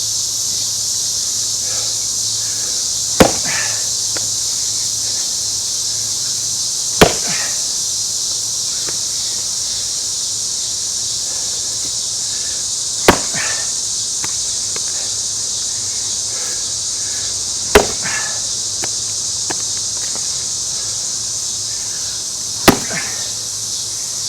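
Red pine and Scots pine wood are chopped and split outdoors, five sharp isolated axe strikes spaced a few seconds apart over a constant loud insect drone.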